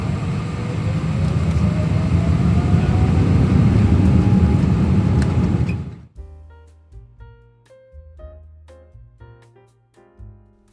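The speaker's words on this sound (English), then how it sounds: "Soon after, we were taxiing out to runway 25L, and before long, hurtling down the runway and heading towards Australia." A Cathay Pacific airliner accelerating down runway 25L for takeoff, heard from the cabin as a loud steady engine roar and rumble that cuts off abruptly, followed by quieter tonal cabin sounds.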